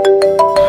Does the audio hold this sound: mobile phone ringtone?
yes